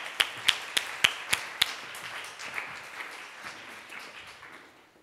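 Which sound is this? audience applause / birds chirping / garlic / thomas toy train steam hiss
audience applause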